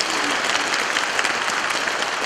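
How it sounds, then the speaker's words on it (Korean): Sustained crowd applause at a residents' countermeasures committee general meeting and launch ceremony for the Wangsuk district, dense, steady clapping from many hands at an even level throughout. "이덕우 위원장님과 우리 운영자분들에게 다시 한번 큰 박수 보내주시기 바랍니다"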